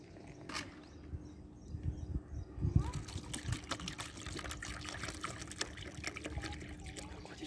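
Water pours and trickles into a cat's bowl, a soft splashing stream that grows fuller midway, fairly quiet and close, while someone talks gently to the cat over it.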